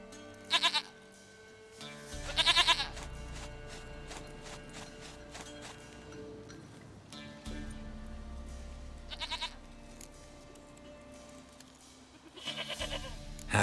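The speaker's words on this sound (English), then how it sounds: "Goat of mine, dearest, sweetest goat." A goat bleats in The Witcher 3, several short wavering calls spaced across the scene over a low mechanical background hum, with no talk.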